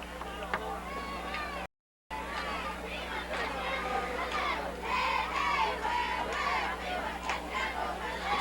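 About 4,000 fans at a 1982 high school football game between Thousand Oaks' Warriors and the Saugus Centurions, a steady roar of crowd chatter and shouts with rising cheers, briefly cut out early.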